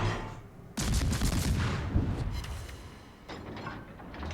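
Naval gunfire in World of Warships from the USS Farragut: a sudden loud blast after a quiet start, rumbling on into a dense roll, then a second, fainter burst near the end.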